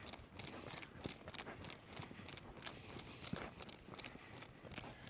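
An older campdraft horse trots quickly while working a cow along a fence, its hooves striking in a fast, even clip-clop rhythm, fairly faint and slightly distant, with no voices.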